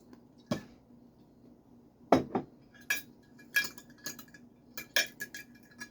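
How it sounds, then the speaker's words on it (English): A utensil stirring a soy sauce and dark soy tofu marinade, giving a series of separate clinks and taps against a dish, spaced irregularly, close and fairly quiet. "I'm going to quickly give all that a stir."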